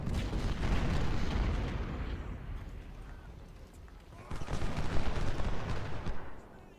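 Artillery fire in Ultimate General: Civil War at the Port Republic battle: heavy rumbling booms roll through a dense wash of distant gunfire, easing off midway and then swelling into a second loud volley before fading.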